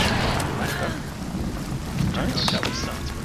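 Rain falls steadily in a multiplayer hunting video game, a dense hiss with low rumbling beneath it and a few brief noises and faint voices mixed in.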